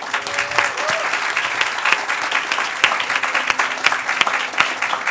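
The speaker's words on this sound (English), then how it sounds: "Let's give our Leadership Council a round of applause." A university climate week kickoff audience applauds the Leadership Council, a loud, dense, continuous round of clapping from a large crowd that carries on throughout, with faint voices underneath.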